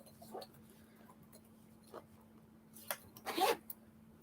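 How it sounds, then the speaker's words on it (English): A zipper on a piece of gear makes faint scattered tugs and one louder, longer zip near the end, quiet and close against a low background hum. "the way the zipper is set up on this is just"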